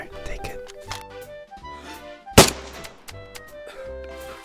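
A single sharp gunshot rings out in a video game amid quiet background music and ambience.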